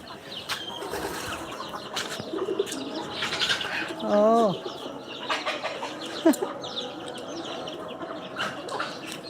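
Country chickens on a farm make a drawn-out clucking call midway through, with scattered cooing, wing flaps and faint voices in the background.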